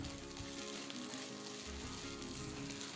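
Vermicelli and eggs being scrambled together in a hot pan make a faint continuous sizzle, a soft crackling hiss running steadily throughout with no talk.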